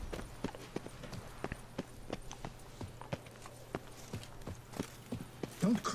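Horse hooves clip-clopping in The Witcher 3: Blood and Wine, a quiet, steady rhythm of distinct hoof strikes at walking pace, with a brief voice near the end.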